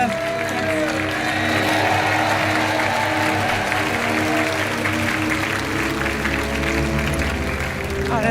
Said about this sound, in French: On vous laisse sortir sous les applaudissements